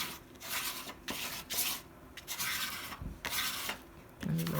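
A hand rubs and smooths paper in a junk journal, several soft scratchy strokes in bursts with brief pauses between them, close and faint.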